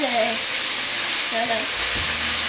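Onions and vegetables sizzling steadily in a pan over maximum heat for a quick vegetable spaghetti sauce, a loud continuous hiss close by, with brief voice-like tones and no clear speech.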